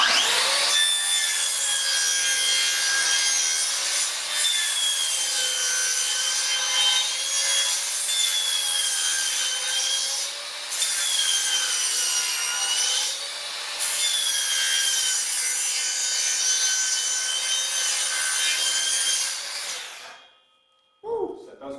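Makita 36V brushless sliding compound mitre saw cutting through wood at an angle, a loud sustained whining cut with a strained, wavering pitch from the worn blade, running for about twenty seconds before spinning down, with faint talk at the end.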